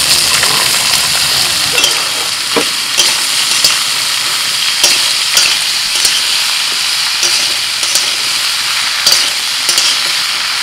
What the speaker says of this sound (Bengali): ওই তেল গরম হয়ে গেছে, দিয়ে দিচ্ছি হোঁপা।